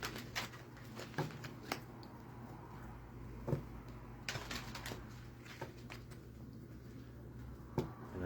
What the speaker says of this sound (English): Just charging the deck with that intention as I shuffle